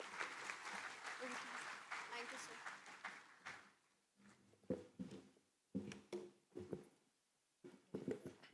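A large audience at a live event applauds steadily and loudly for several seconds, then the clapping fades and gives way to a speaker's voice with scattered sounds.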